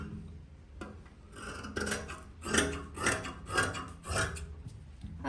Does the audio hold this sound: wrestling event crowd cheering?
no